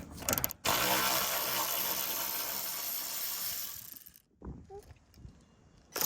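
Close ratchet clicking as a hand tool loosens 10mm headlight bolts on a 2010 Honda Accord, a loud sustained burst of rapid clicks followed by a pause and a few shorter bursts.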